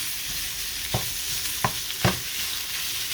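Ground pork sautéing in a hot pan with onion and garlic, a steady broadband sizzle running throughout, broken by three brief scraping stir strokes; no voices.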